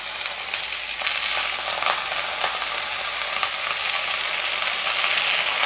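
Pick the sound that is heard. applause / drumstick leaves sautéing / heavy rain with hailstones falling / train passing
drumstick leaves sautéing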